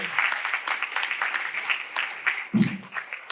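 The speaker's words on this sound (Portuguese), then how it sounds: "Uma salva de palmas para o CID-PD," Steady clapping from a conference crowd at an opening ceremony fills the whole stretch, dense and continuous, with a few louder bursts near the end.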